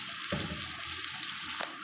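Water pours in a short steady stream, splashing gently, with a couple of soft knocks of a container, close and moderately quiet.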